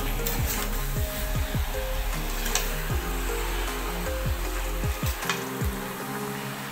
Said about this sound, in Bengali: মাংসের মধ্যে আমি আলু দিয়ে দিয়েছি, দিয়ে এবার ভালো করে আমি কষিয়ে নেব